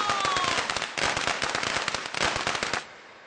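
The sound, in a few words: firecracker explosion sound effect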